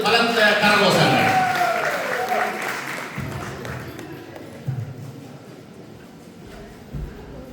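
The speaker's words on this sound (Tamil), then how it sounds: "எங்கே உங்களது பலத்த கரகோஷங்கள்?" An audience at a debate bursts into loud applause that quickly peaks and then fades away over a few seconds, leaving a quieter room with a couple of stray thumps.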